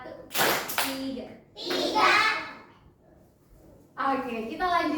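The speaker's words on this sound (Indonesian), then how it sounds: "Masih ada tepuk tangan." Children in a classroom clap in short bursts during a clapping game, sharp clustered claps separated by pauses, with children's voices mixed in.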